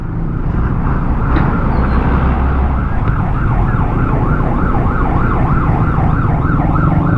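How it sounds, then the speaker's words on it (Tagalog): A loud, close emergency vehicle siren wails in a continuous rising-and-falling cycle on a road in Camarines, held steadily over rumbling traffic noise. "Oh, dali, may wangwang."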